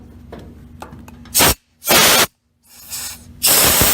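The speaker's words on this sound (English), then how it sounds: "take compressed air and blow through here, and that slide should lift" Low-pressure compressed air is blown through a motorcycle CV carburetor to lift its slide, giving four loud, broadband hissing blasts of varying length, separated by brief silences, heard up close with no talk.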